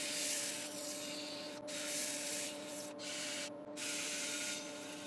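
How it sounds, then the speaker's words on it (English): An ash branch-wood bowl is power-sanded with a right angle drill, giving a steady, close abrasive whirring and rubbing that runs continuously with a few brief pauses and no talking. "I sanded up to my usual 400 grit with right angle drill"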